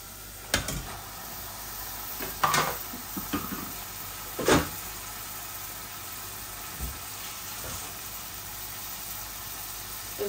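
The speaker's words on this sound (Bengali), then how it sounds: "এখন আমি চিকেনের কিমাগুলা দিয়ে দিব।" Chicken mince hits a hot pan and settles into a low, steady sizzle, with a few sharp clatters as it is stirred. No one talks.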